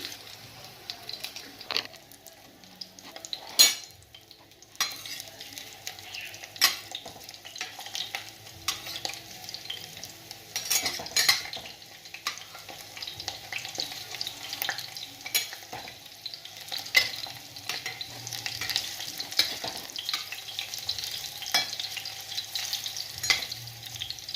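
Prawn and soya dumplings frying in a pan, giving a soft, continuous sizzle with intermittent sharp scrapes and taps of stirring, close by and without speech.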